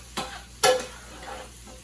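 Sliced onions frying in a pan for shrimp fried rice, with a couple of sharp scraping stir strokes over a soft, steady sizzle close by.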